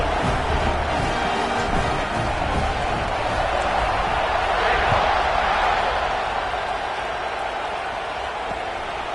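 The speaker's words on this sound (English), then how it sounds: "this crowd is feeling themselves after that last drive." Dense roar of a football stadium crowd cheering during a game after a kickoff drive, a steady loud wash of voices that swells slightly midway.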